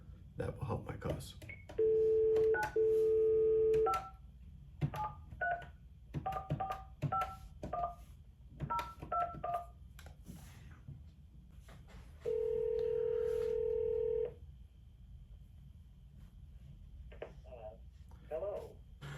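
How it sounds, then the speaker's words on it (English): Phone number dialing on a telephone call, with clear touch-tone beeps in short sequences and long steady tones between them, sounding close over a low background hum. "I'm going to try a couple phone numbers here"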